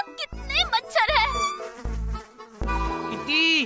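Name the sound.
mosquitoes buzzing, cartoon sound effect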